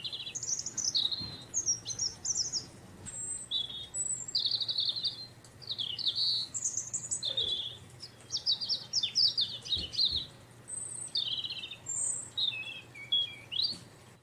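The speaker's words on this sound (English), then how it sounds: "So I got the binoculars, and it's a robin. And here he is singing." From high in a treetop, a robin sings a long run of bright, warbling phrases broken by short pauses. The song is clear and moderately close over a low steady hum, with a few faint knocks.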